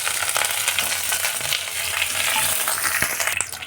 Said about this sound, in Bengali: কারি পাতা দিয়ে দিচ্ছি